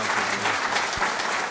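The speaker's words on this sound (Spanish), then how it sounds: "Pido un aplauso por esta excelente participación." An audience gives a participant a round of applause at the close of a technical training session, dense, steady clapping with no pause through the short stretch.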